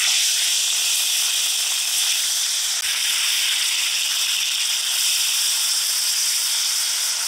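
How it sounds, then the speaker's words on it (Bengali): Rohu fish frying in hot mustard oil hisses and sizzles loudly and steadily, a bright, unbroken spitting texture close by with no talking over it. "তেলটা গরম হয়ে গেছে, এবার মাছগুলো দিয়ে দিব।"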